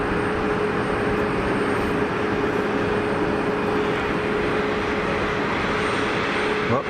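EasyJet airliner landing at Geneva Airport, passing low over the boundary fence with a loud, sustained jet roar that holds steady throughout, alone without talk.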